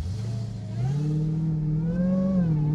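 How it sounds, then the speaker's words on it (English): BMW M5 CS and Dodge Charger Hellcat Redeye accelerating side by side in a roll race, a loud, steady engine drone with pitch climbing smoothly as revs rise, close and continuous with no talk. "All right, let's do a roll race because that will change nothing."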